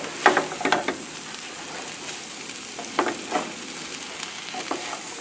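Sun-dried tomatoes tossed into a hot pan with pork and potatoes give bursts of sizzling and frying crackle, with several louder stirring scrapes spaced across the scene over a quieter hiss.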